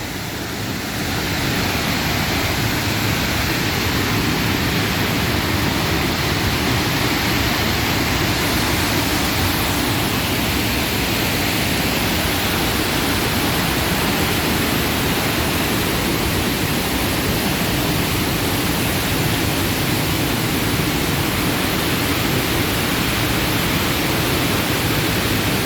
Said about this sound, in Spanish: El lugar más famoso de la Mixteca oaxaqueña, Cascada La Esmeralda.